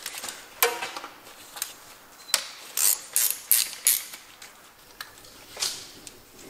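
A ratchet loosens the transmission pan bolts on a Mercedes 7G-Tronic gearbox during a fluid change, giving close, quiet metallic clicks and short ratcheting bursts with pauses between them.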